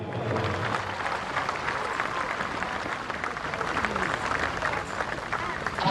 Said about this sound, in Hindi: वीर सैनिकों के लिए एक बार जोरदार तालियां हो